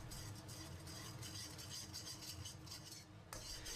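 Chili bean paste and soy sauce stirred in a wok with rapeseed oil, a spatula scraping and clinking in rhythmic strokes over a faint sizzle, close by and quiet, no talk.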